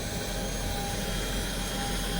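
Airplane engines at an airport, a loud continuous jet roar with a steady high whine holding throughout, close and unbroken with no talking.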